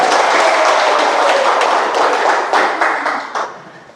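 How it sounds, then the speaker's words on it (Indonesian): Dense applause from an audience greeting Forsa Subang at a Forsa gathering, many hands clapping at once, loud and close before gradually thinning and fading toward the end, with no voices over it. "Oke, tepuk tangan buat Forsa Subang."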